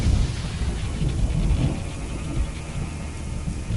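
Rolling thunder with steady heavy rain in the Deponia adventure game, a dense continuous wash of rain noise with low rumbling swells throughout, no voices.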